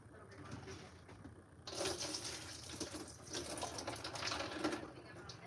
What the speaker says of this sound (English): I'm rinsing now to get rid of all that cloudiness.